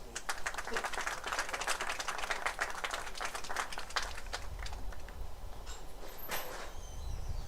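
Spectators at a 19U American Legion state tournament baseball game applaud both teams, a faint, distant scatter of clapping that thins out toward the end, with low background rumble.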